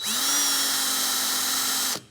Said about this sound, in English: you're going to drill a 3/4 inch hole